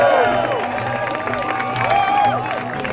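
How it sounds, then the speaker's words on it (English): Crowd noise at the finish of the Black Canyon 100K ultramarathon, a continuous loud mix of cheering, whooping and clapping from spectators close by, with overlapping voices throughout. "Big round of applause and make some noise for the 3 fastest guys here at the Black Canyon 100K"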